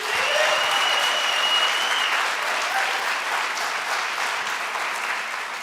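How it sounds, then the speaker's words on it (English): A crowd at a business contest event applauds, dense and even clapping that holds steady for several seconds, with a faint tonal hum running underneath. "Give them a big round of applause, will you?"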